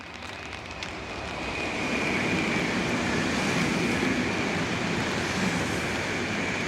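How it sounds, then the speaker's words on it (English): A bullet train passes at a distance in Japan, a broad steady rushing roar that builds after the first couple of seconds and holds. "I can see a bullet train in the distance coming down."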